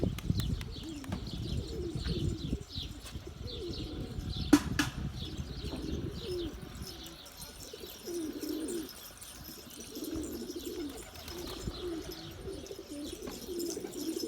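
Pigeons in a home garden coo softly in repeated low phrases, with wing flaps and a sharp flutter partway through. A few higher chirps sound faintly in the background.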